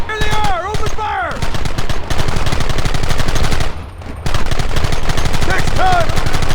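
Rapid, loud gunfire fills a Red Dead Redemption shootout, continuous volleys of shots with a brief drop before the firing resumes, while shouting voices break through at the start and near the end.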